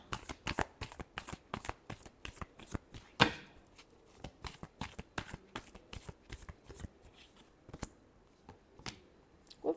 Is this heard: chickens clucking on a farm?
no